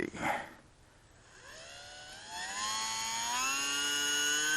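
An electric motor on a small UMX Timber RC plane fitted with floats spins up from a soft start into a rising, steady whine during takeoff from grass, growing gradually louder and higher.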